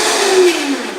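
A Vitamix blender motor runs close by as a steady, loud whirring roar with a humming tone that drops slightly in pitch, with no talking.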